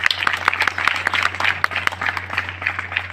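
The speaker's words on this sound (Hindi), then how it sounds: "तालियां।" Audience applause at a journalists' felicitation ceremony in Orchha, a dense run of many hands clapping with sharp individual claps standing out, steady and fairly close, with a constant low electrical hum beneath.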